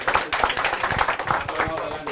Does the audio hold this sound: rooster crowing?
no